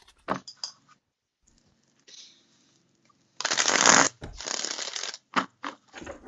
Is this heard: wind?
no